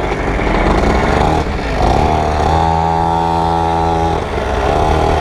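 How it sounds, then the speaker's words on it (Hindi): A small motorbike buzzes along continuously nearby at a children's summer camp, its revving engine note rising and holding steady with a brief dip, loud and alone without talk. "देखो भाई कितनी छोटी बाइक चला रहे हैं"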